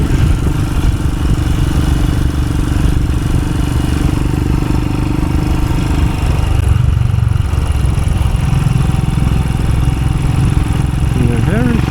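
A motorcycle rides along a road in Finistère, its engine droning loud and steady with low rumble and wind noise throughout, and a voice talks faintly underneath partway through.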